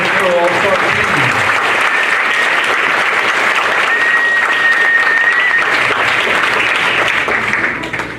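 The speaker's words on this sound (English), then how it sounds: "Let's give a round of applause to those captains for the Mexico All-Star team" Sustained applause from a banquet audience honouring the Mexico All-Star team captains at a U15 USA vs Mexico event, steady and full throughout, with faint voices and a brief whistle mixed in before it tapers at the end.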